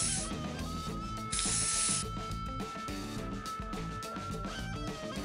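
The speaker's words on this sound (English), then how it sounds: "Color it with blue hairspray." Blue hairspray hisses from an aerosol can onto hair in two short bursts, underneath louder music.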